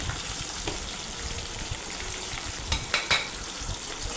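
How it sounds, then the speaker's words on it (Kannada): Crushed garlic and sliced green chillies frying in hot oil, a dense steady sizzle close up with a few sharp stirring clinks near the end. "ಇದನ್ನು ಸ್ವಲ್ಪ ಫ್ರೈ ಮಾಡ್ಕೊಳ್ಳೋಣ, ಎಣ್ಣೆಯಲ್ಲಿ ಖಾರ ಬಿಡಲಿ ಅಂಥೇಳಿ"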